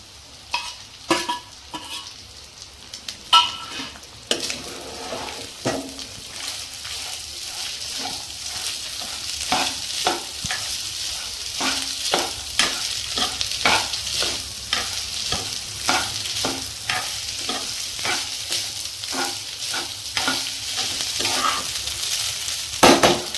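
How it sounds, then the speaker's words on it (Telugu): Cooked rice being mixed into a curry leaf tempering in a pan, with frequent scraping and stirring strokes over a continuous light sizzle, close and fairly loud, growing busier toward the end. "ఇప్పుడైతే మనం తీసి పెట్టుకున్న రైస్ వేసి కలుపుదాం."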